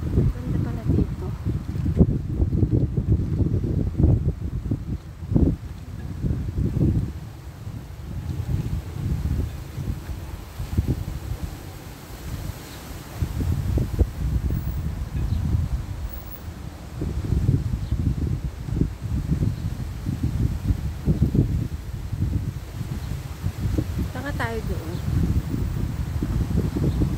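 Strong gusty wind in Piraeus buffets the microphone in heavy low-frequency bursts, rising and falling over the whole stretch, with a brief higher chirp near the end.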